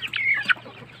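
Chickens on a small Filipino poultry farm raising native and Asil-type birds, giving a short burst of close, high-pitched clucking and squawking that rises twice in quick succession before trailing off over a low steady hum.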